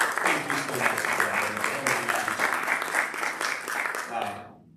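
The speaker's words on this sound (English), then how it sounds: "I say we just give another round of applause for that" Theater audience applauding at a live spiritual-center gathering, a dense, steady roar of many hands clapping for several seconds before fading out, with some voices mixed in.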